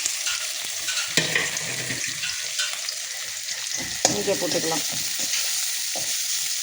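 Onion sizzling in hot oil in a pan while cooking tomato rice: a continuous bright frying hiss broken by two clattering stirs, and no talk.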